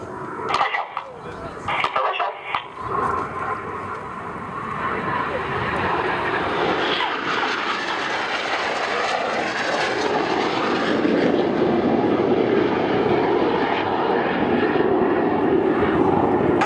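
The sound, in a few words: display team jets flying an opposition barrel roll at an airshow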